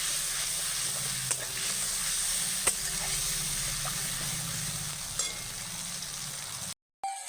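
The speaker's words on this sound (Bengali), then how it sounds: "মশলাটাকে ভালো করে কষিয়ে নেব।" Spices with a splash of water sizzle and hiss steadily in a pan for a Bengali taro leaf and hilsa fish head dish. A few faint clinks of a stirring spoon sound over the frying before it cuts off briefly near the end.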